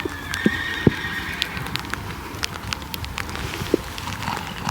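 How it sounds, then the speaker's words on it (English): Horses shuffle and clop with scattered sharp knocks and thumps, against a steady outdoor hiss; a brief whinny-like call rises in the background. "not the other horses that are moving around"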